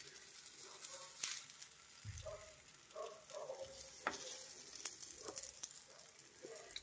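Sweet potato holige cooking on a hot tava, a faint, steady sizzle with scattered soft taps and crackles, heard quietly and alone.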